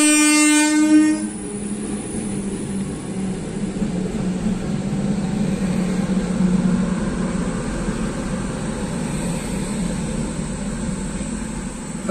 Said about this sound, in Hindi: अब बहुत दिनों के बाद ट्रेन भी तो देखने को मिलेगा।